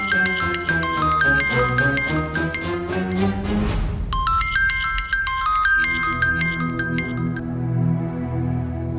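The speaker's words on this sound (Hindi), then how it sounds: "फोन बज रहा है।" A phone ringtone plays loudly and alone, a bright tinkling chime melody repeating in quick notes, then shifting to a higher, tinny electronic tune partway through.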